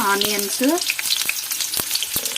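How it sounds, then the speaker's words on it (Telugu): Cumin and mustard seeds sizzling and popping in hot oil at the start of a South Indian beetroot fry, close and crackly with quick sharp pops over a steady hiss, no talking. "ఆయిల్ హీట్ అయిన తర్వాత ఫస్ట్ జీలకర్ర ఆవాలు వేసుకోవాలి"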